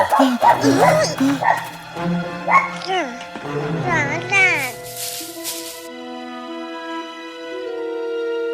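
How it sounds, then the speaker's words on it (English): Strange, wavering dog-like yips and whimpers, close and expressive, then fading into sustained musical tones. "Oh, what a terrible sound! We should drive that dog away."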